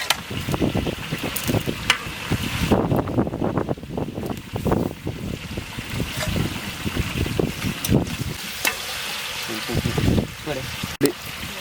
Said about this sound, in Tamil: பார்த்தீங்கன்னா வெங்காய தக்காளி கொஞ்சம் நல்லா வதங்கும்